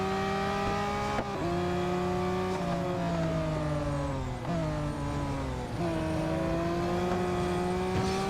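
Race cars roar steadily in the Real Racing 3 video game, one engine note climbing through revs and dropping sharply at each gear change, loud and close with no talking.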